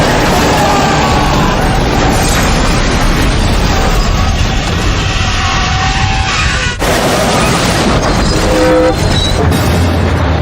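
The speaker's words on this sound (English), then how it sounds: "The train crashes straight into the semi, and the semi crashes straight into Chim." A freight train slams into a semi-truck at a level crossing in a loud, continuous, dense crash of grinding metal and roaring impact noise, with a brief drop and then renewed clattering and screeching debris.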